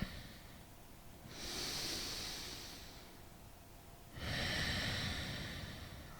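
Slow, deep yoga breaths, each a long airy inhale or exhale of about three seconds, close and steady with quiet pauses between and no talking.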